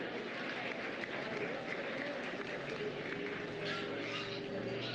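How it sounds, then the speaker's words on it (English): Faint, distant applause from the audience in a livestock arena at the 2025 swine show. Even clapping spreads under a steady room hum for the whole stretch. "Let's give him a big round of applause."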